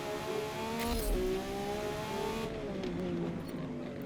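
A Lamborghini Revuelto in the Forza Motorsport racing game holds a loud, steady high-pitched engine whine near top speed, with brief pitch shifts as it strains along a straight.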